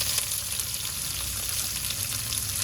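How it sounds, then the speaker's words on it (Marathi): Sliced onion and garlic frying in a pan for an ivy gourd stir-fry, a continuous dense close sizzle throughout, no talking. "कांदा लालसर भाजून घेऊया।"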